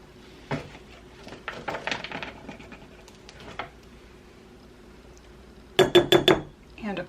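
Kitchenware clinks and clatters while flour is measured for orange blossom fairy cakes: scattered taps early on, then a quick burst of bright metallic clinks near the end, with faint background sounds.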